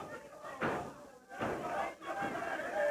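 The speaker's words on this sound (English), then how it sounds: "And cheering, let's go, Jerry, let's go, Flanagan." A wrestling crowd at a Memphis Wrestling match chanting for Jerry and Flanagan in loud, rhythmic waves of cheering that swell and dip about once a second.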